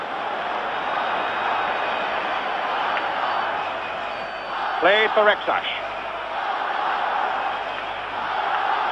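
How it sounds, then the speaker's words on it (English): A Spanish football crowd at a 1974/75 European Cup semi-final in Barcelona roars steadily from the stands, with a brief shouted swell midway, all under continuous commentary. "Spanish crowd have really found their voices in the last quarter of an hour, and particularly in the last 5 minutes"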